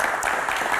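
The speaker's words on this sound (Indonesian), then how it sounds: "Terima kasih, tepuk tangan dong." An audience of university students claps briefly, a short burst of applause heard close and fairly loud.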